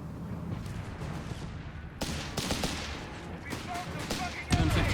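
Artillery barrages in the game Company of Heroes 3 crack and thud in scattered bursts, with a heavier blast near the end, under a steady background of battlefield noise.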